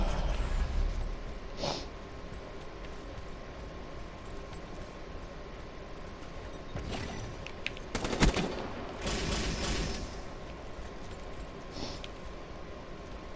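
Hip-fired gunshots in a Call of Duty Black Ops 3 hardcore team deathmatch, with a few sharp reports and one loud crack near the middle over steady game ambience, no talking.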